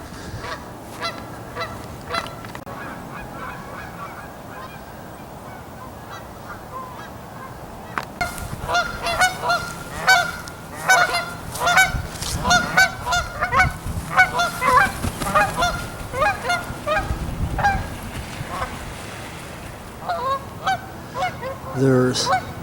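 Geese honking near a river by the Bridge of the Gods, a few scattered calls at first, then a dense, overlapping chorus of loud honks that continues to the end.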